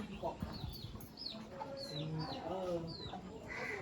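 Several chickens cluck and chirp in short bursts nearby in a Konkan village, with faint background voices and farmyard noise.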